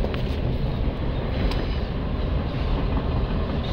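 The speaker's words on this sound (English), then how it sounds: "I didn't know a train came through here. First time seeing it." Freight train rolling past close by, a loud, continuous rumble and rattle of railcars with wind buffeting the microphone, no talking.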